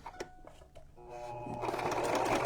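A sewing machine starts up after a few light clicks and runs in a rising, steady whir, stitching ribbon onto a junk journal cover up close.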